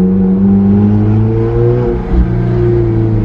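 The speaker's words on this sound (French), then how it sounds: "c'est un moteur W12 635 chevaux" A powerful 635-horsepower W12 car engine idles and revs with a deep, steady rumble, close by, with a brief dip and surge midway.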